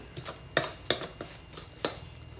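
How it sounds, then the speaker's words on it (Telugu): A hot kadai of Mysore pak is scraped out onto a ghee-greased plate, with several sharp metallic scrapes and clinks of a spoon against the pan at an uneven pace. "కడాయిలోని మైసూర్ పాక్ అంతా ప్లేట్లో వేసుకోవాలి"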